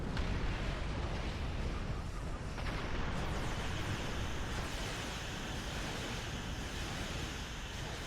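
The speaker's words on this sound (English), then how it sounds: "Look at the pretty explosion." Explosion in a space fleet battle video game, a broad roaring rumble that keeps swelling for several seconds and gets brighter midway, steady and fairly faint.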